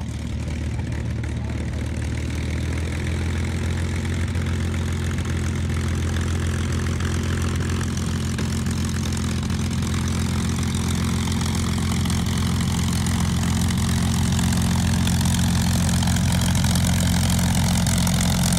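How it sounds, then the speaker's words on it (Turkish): Propeller airplane engine at the Sivrihisar air show, a loud, steady drone with strong low harmonic hum running continuously throughout, close by and unbroken, with no talk over it. "İnanılmaz bir motor sesi var."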